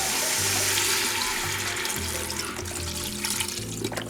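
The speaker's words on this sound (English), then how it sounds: "And we're gonna pour in some chicken stock." Chicken stock pours and splashes steadily into a pan of green beans, a continuous watery rush that eases slightly toward the end, with no talking.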